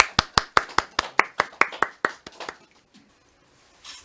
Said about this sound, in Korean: 여러분, 그럼 이제 고진강 이사장님을 큰 박수로 모셔보겠습니다